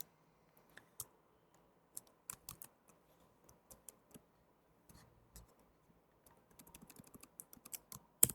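Code being typed on a computer keyboard, quiet irregular key clicks in short bursts, with a denser run of fast keystrokes near the end, faint and close with no talking.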